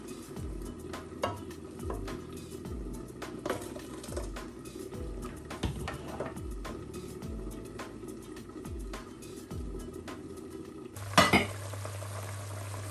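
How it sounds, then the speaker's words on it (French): Onion and blended pepper mixture is stirred into a frying pot, repeated scraping strokes in a steady rhythm over a sizzle, ending in a louder clatter and hiss. "Je vais rajouter le mélange des oignons avec le poivron que j'ai écrasé dans le mixeur. Il faut mélanger le tout."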